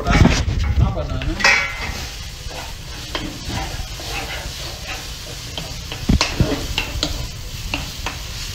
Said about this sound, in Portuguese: Agora nós vamos acrescentar o bacon. Aquele bacon que nós fritamos antes, já vai incorporar na banana.